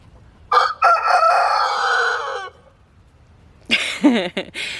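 A rooster crows loudly and close by, one long drawn-out call followed after a short pause by a second crow starting up.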